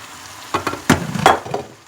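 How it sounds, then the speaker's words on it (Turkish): Soft sizzling of chopped zucchini frying in tomato paste in a pan, with a few clinks and scrapes of a utensil stirring, close by and brief. "Ve bir 5 dakika bu şekilde salçasıyla kavuracağım."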